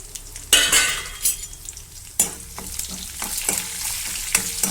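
Cumin, mustard seeds, dried red chillies and garlic dropped into hot oil for a Telugu gongura dal tempering, crackling and sizzling loudly with sharp popping bursts and stirring clatter, no voices.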